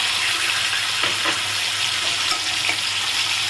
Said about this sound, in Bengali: এটা আগে একটু ভাজা ভাজা করে নেবো